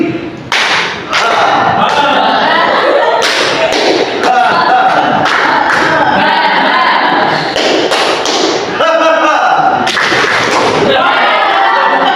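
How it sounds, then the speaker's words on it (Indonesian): A class claps together in a classroom, a loud, dense burst of hands striking in a steady beat that carries on throughout, with voices mixed in. "Tepuk tangan."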